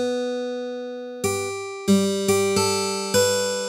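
Plucked string notes from a Plasmonic software synth with its resonator turned on: one long ringing tone decays, then several bright, metallic plucks follow at an uneven pace, each sustaining with a rich, bell-like ring and no voice.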